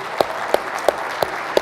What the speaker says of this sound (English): give a big round of applause to the Cleveland Cavaliers